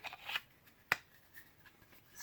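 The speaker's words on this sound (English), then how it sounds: "It's got a nice click going in." A single sharp click as a Mora Garberg knife seats into its sheath, a short, distinct snap in a quiet room with faint handling rustle before it.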